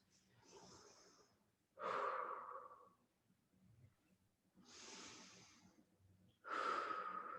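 Slow, deep breaths during a hip-stretching routine, audible inhales and exhales in a steady rhythm, close and fairly quiet, with no talking.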